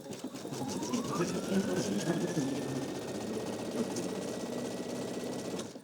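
A sewing machine runs steadily in a zigzag stitch mending a fabric tear, a continuous close mechanical whir with rapid needle clatter.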